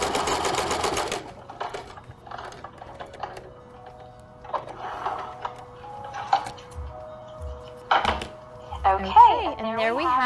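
A sewing machine stitches a flat-felled seam in several short runs of rapid mechanical whirring, close and clear, separated by pauses with small clicks and handling sounds and a brief voice near the end.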